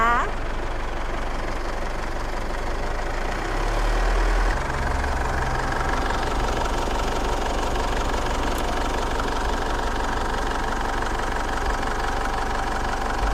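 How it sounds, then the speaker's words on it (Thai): A 2012 Isuzu D-Max Spark S pickup's diesel engine idles steadily up close, a low continuous rumble with a faint rhythmic knock, with a voice speaking over it. "เดี๋ยวเรามาฟังเสียงเครื่องกันเลยจ้า เสียงเครื่องนิ่มมากนะคะ"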